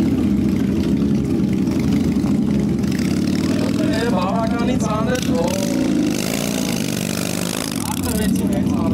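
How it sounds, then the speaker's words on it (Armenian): A Honda motorcycle engine at a moto festival, running and revving loud and close in a slow-riding contest, its pitch rising and falling, while an announcer talks over it. "Շատ հետաքրքիր մոտոցիկլետ է գալի"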